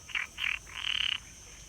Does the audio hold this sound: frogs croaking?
yes